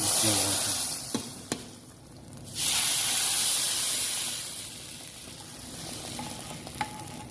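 Garlic hits hot oil in a pan for a red lentil soup, giving a sudden loud sizzle that swells, then settles into a steady frying hiss. Sharp clicks of a utensil sound against the pan.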